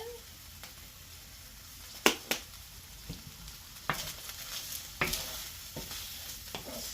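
Chili flakes and garlic stirred in hot oil in a pan, with a steady sizzle and frying hiss broken by several sharp scrapes of the utensil, close and clear with brief speech.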